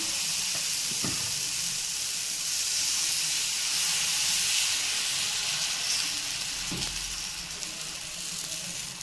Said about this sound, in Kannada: ನೋಡಿ ಇವಾಗ ಇನ್ನೊಂದು ದೋಸೆ ಕೂಡ ಹಾಕ್ತಾಯಿದ್ದೀನಿ